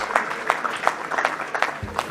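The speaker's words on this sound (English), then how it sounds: "Let's have a big round of applause." Audience applause at a two-day entrepreneurship and innovation conclave during an award presentation, heard as scattered, moderately loud clapping with uneven rhythm over a short stretch.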